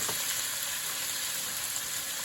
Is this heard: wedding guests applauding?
no